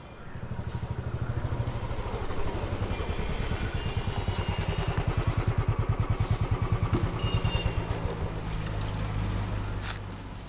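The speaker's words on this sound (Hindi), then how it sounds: "उस बाइक का इंजन सही कर।" Motorcycle engine running steadily near the mic, a rapid low chugging pulse with some clatter throughout, alone without speech.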